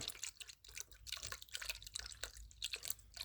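Water trickles and drips unevenly into the coolant reservoir of a Derbi 50cc, a faint, close, gurgling pour with small splashes and no talking.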